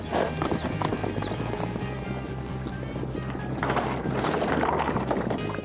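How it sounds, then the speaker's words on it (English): Spooked horses in a ranch corral in California's Sierra Nevada mountains: steady hoof clip-clops and shuffling with short whinnies, close by and busy, growing somewhat louder toward the end. "Inside the corral, something has the horses spooked."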